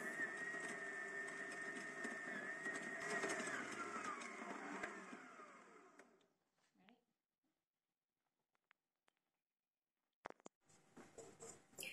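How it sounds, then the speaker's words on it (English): A stand mixer kneads milk steamed bun (mantou) dough at medium speed, giving a steady, moderately loud mechanical whir for about six seconds before it stops, with faint clicks and a brief rustle near the end. "Start the mixer again, raise the speed to medium, and let it run for another 6 minutes."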